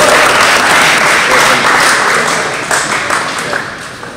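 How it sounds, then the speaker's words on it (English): Loud, close applause from a crowd at a varsity table tennis event honours the singles winner, strong at first and gradually thinning out. "Round of applause for Joy."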